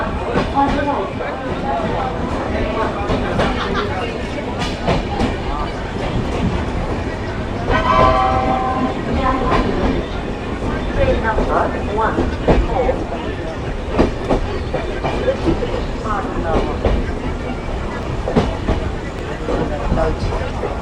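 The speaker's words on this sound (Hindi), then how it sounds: "ट्रेन हमारी निकल चुकी है यमुनानगर जगाधरी।" A passenger train pulls out of Yamunanagar Jagadhri station in India, its rumble and clickety-clack heard from on board, steady and loud, with a horn-like tone midway and people talking throughout.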